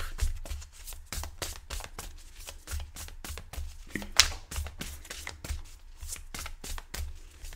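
A deck of tarot cards is shuffled during a fortune-telling reading, giving quick repeated riffling strokes in a fast, steady rhythm, close by and moderately loud with one sharper snap midway.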